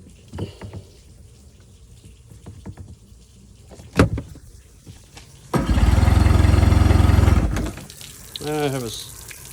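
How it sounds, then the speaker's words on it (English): A boat engine's starter tries to engage: after some clicks and handling noises, a single loud grinding whir lasts about two seconds, then cuts off, followed by a brief squeaky sound. "I think my starter's not wanting to engage."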